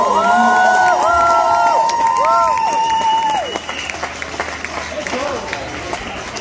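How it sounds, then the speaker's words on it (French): An audience applauds two chefs at a catering tasting event, with loud crowd noise and cheering mixed with sweeping whistle-like tones early on, then scattered clapping continuing more thinly. "Une bonne main d'applaudissement encore pour nos deux chefs qui se sont portés aux deux."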